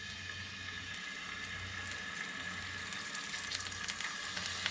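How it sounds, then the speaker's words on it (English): Chunks of redfish crackle and sizzle in hot olive oil in a pan, a close, dense frying hiss with sharp pops that grow busier toward the end, no voices. "I'm going to go ahead and start putting my redfish chunks in."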